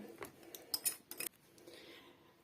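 Melted butter being stirred into a semolina cake (mannik) batter in a bowl, a few quick clinking strokes of a utensil against the bowl, then a softer, quieter scraping; no voices.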